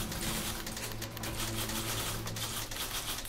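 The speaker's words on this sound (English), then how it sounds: "you hear the keyboard with the typewriter" Dense clatter of many typewriters typing at once in the video game The Beginner's Guide, a steady, busy mechanical racket of overlapping keystrokes that fills the whole stretch without pause.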